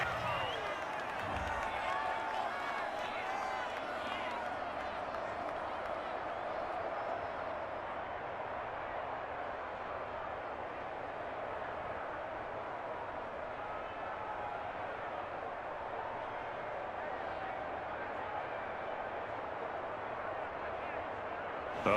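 Stadium crowd in Madden 21 at a Vikings at Buccaneers game reacts to a roughing-the-passer penalty, a steady, dense roar of boos and murmur sustained throughout, with a sharp thump near the start.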